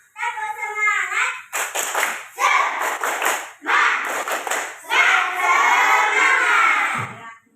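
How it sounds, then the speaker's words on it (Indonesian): Indonesian primary school children in a classroom chant "tepuk semangat" loudly in unison, with a rhythmic pattern of claps worked into the chant, close and energetic. "tepuk semangat dulu. Tepuk semangat."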